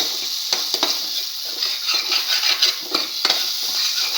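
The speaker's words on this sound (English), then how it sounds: "Mix thoroughly. And let it fry." A utensil stirs an egg and tomato stir fry seasoned with salt in a hot pan, tapping and scraping against the metal in irregular clinks over a continuous close sizzle.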